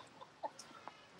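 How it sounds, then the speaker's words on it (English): Birds gathered in Golden Gate Park, San Francisco, on a very cold day, giving a few faint, short clucking calls spaced irregularly in quiet surroundings. "we got a lot of birds here"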